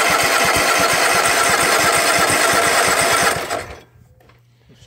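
A flooded lawn mower engine, fuelled with carb cleaner after being completely under water, is cranked hard and loud in rapid rhythmic pulses for about three seconds, then stops, leaving a faint low hum.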